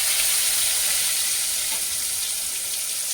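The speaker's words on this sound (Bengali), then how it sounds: "এই যে মোটা মোটা করে একটু আলু কেটেছি, এটাকে তেলেতে, ওই মাছের তেলেতে একটু লাল লাল করে ভেজে নেব।" Chunky cut potato pieces fry in leftover oil from frying catla fish belly pieces, giving a steady, close hiss of sizzling oil with no voices over it.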